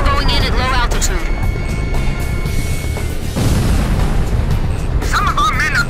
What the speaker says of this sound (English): Explosions going off in the area.